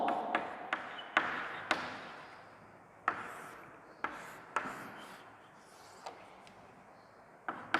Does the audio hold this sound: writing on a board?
yes